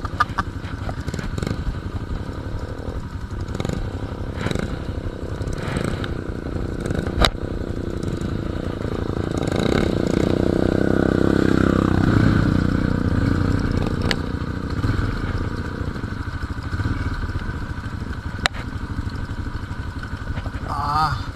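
A new ATV's engine runs close by on a mountain farm trail, idling roughly and then revving up to a fuller, louder drone in the middle before settling back, with clattering and occasional voices.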